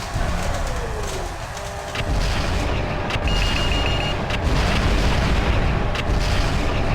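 Missile explosions in MechWarrior 4: Mercenaries: a steady, dense rumble of booms and blasts, loud and continuous throughout with brief thumps and mechanical tones layered on top.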